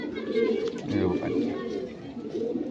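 A pigeon, a champion Lokhande breed kept by a fancier, gives soft, low repeated coos at close range. A voice murmurs quietly in the background.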